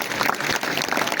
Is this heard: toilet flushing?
no